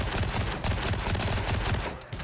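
Rapid bursts of gunfire in the video game Gray Zone Warfare, a dense, loud volley of rhythmic shots fired close by, dropping briefly before one last crack.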